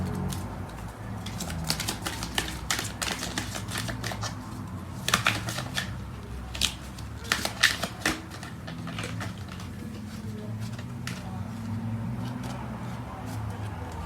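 Tarot cards shuffled by hand close up, rapid riffling flutters in bursts with soft slaps as cards are drawn, quiet and without talk.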